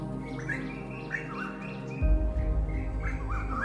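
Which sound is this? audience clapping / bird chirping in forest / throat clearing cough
bird chirping in forest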